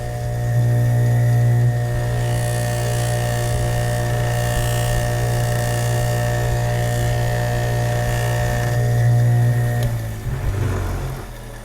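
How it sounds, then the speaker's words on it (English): A grinder fitted with a buffing wheel polishes a stainless steel plaque, giving a loud, steady motor hum with a strong tonal whine that runs almost unbroken and then winds down near the end. "it's not where the buffing wheel normally goes, so I've got to kind of hold it down."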